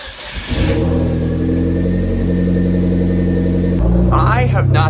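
A shop car's engine idles and revs high with the check engine light on, a steady close mechanical roar that holds throughout and lifts in pitch near the end, with a person talking over it.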